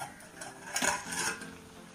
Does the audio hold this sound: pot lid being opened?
yes